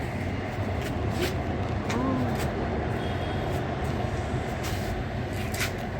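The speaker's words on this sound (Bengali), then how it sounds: "এই দেখো মেট্রো যাচ্ছে" A metro train rumbles past at a distance, a steady low roar of wheels and motion, with faint voices and occasional clicks in the background.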